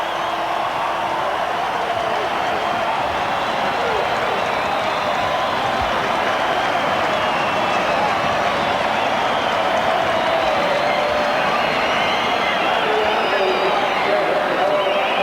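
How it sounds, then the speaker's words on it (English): A packed stadium crowd at Lang Park roars continuously at the final whistle of the 1991 Australia v New Zealand rugby league third test, a dense, steady wall of cheering with a commentator talking over it. "Jubilation from the Kiwis."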